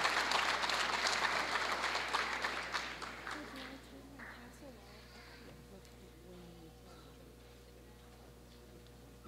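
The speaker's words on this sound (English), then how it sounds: "let's give a round of applause to our graduates of the class of" Audience applause for graduating students at a 2022 high school graduation ceremony, dense clapping at first that thins out and fades over several seconds, leaving a quiet room with scattered faint sounds.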